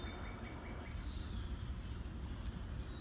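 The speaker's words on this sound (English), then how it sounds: "Oh, there's the birds." Short high-pitched bird chirps repeat intermittently over a steady low rumble of background noise, fairly faint and somewhat distant.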